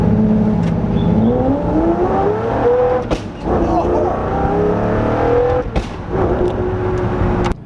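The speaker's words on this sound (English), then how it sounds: "It's race mode in the Zonda Cinque. The tires, they can't put down the power." A Pagani Zonda Cinque launching in race mode with spinning tires, its engine note rising loudly through rapid gear changes, close and continuous with brief squeals and breaks between shifts.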